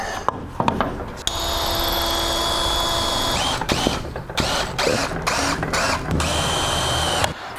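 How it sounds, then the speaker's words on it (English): Power drill bores countersink, clearance and pilot holes into the end of a wooden board for a headboard, a loud close whine with several short bursts that stop and restart. "So we're drilling countersink hole, clearance hole, and a pilot hole into the end here."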